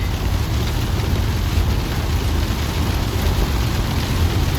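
Thunderstorm heard from inside a van, with a thick, loud, steady roar of pouring rain close overhead and a low rumbling underneath.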